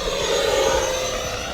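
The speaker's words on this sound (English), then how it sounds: "It's EDF, but it's a jet." An RC model F16 jet with an electric ducted fan flies past, giving a steady, loud, high whooshing whine that holds evenly through the short moment.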